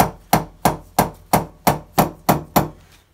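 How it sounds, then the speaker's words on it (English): A rubber mallet taps a hinge on a UPVC door eight times in an even rhythm, each hit sharp and close with a short decay. "we've got a trusty rubber mallet there. I'll just tap that down on that"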